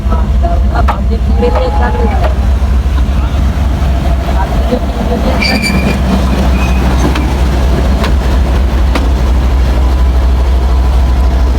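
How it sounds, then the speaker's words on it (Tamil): A train engine rumbles steadily on the rails of the Colombo to Batticaloa railway in Sri Lanka, with a low engine drone, faint squeals and clacks, while people talk nearby. "மாகோ சந்தியில் தான் போய்க்கிறோம் பாருங்கள் நம்மளோட ட்ரெயின் இன்ஜின் வந்துட்டு"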